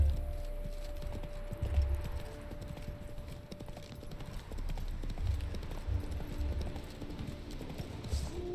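Roach the horse gallops in The Witcher 3 with steady, close clip-clop hoofbeats. The rhythmic thuds continue throughout at a moderate volume.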